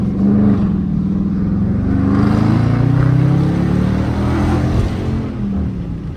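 Dodge Charger R/T pulling away hard from a green light, a loud, close engine roar that builds and sustains before easing slightly at the end, with no speech.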